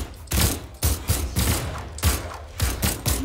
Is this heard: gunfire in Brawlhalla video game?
yes